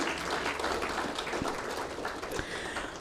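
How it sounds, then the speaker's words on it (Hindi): Audience at an India impact awards ceremony clapping together in a dense, sustained round of applause, moderately distant and even throughout. "इनके लिए भी जोरदार तालियां।"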